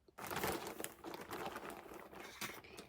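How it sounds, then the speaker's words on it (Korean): Crinkly plastic and paper wrapping being torn and crumpled as a delivered parcel holding clothing is unpacked, a steady close rustling that runs for nearly three seconds after a quiet start. "일단 이거 먼저 뜯어볼게요"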